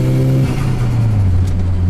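A turbocharged Suzuki Vitara accelerates with a loud, droning engine note that climbs steadily in pitch, heard up close from inside the cabin with no one speaking.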